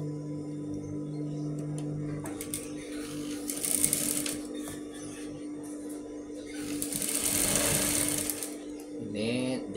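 A sewing machine stitches a sarong into trousers in quick rattling bursts, pausing between runs of stitching, with light handling noises of fabric in a quiet room.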